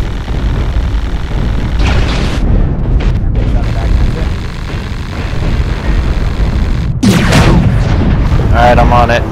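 Gunfire in the video game CTF-2X strikes the player: a dense, loud, continuous roar of shots and booming blasts that surges again near the end.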